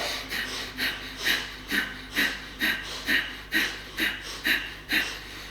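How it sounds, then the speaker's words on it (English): Heavy rhythmic yoga bellows breathing, about a dozen quick forceful breaths in a steady pumping pattern, close and clear with no talking. "pump the breath in and out like a bellows, either through the mouth or through the nose"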